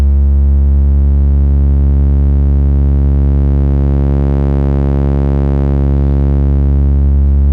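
A steady, buzzy analog VCO tone holds one pitch, its timbre gradually growing brighter and harsher in the middle as FM self-modulation is turned up, before settling back.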